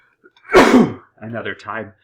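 A single sneeze bursts out in a classroom during a geometry lesson, loud and close, followed right away by a short spoken phrase.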